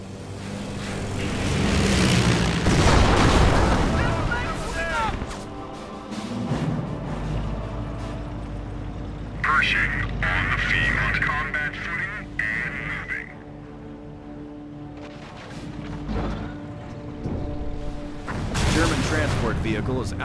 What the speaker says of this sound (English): Bombing run is now inbound.